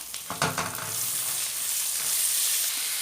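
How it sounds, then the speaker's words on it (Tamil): Thinly sliced large onions dropped into hot oil in a frying pan for soybean fry, a sudden burst of crackling and stirring settling into a steady, close sizzle. "இப்போ வெங்காயம் போட்டுக்கலாம்"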